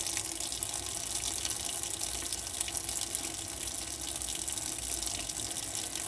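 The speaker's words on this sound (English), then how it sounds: "I can see it steaming as that water's coming through the system" Water rushes steadily through the hot taps of a 2019 Bailey Unicorn Merida caravan's water system, a constant, even, hissing flow close by with no talking.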